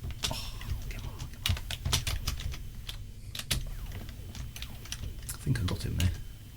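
Computer keyboard keys are pressed in quick, irregular clicky bursts while flying a ship in the game Frontier Elite 2, with a steady low hum beneath and a voice talking over parts of it.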